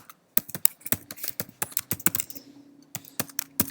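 Quick clattering keystrokes on a computer keyboard come in an uneven burst, close and fairly clear, with short pauses between clusters and no one speaking.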